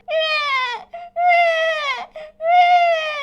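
A baby cries in three long wailing bursts separated by short gasping breaths, loud and close.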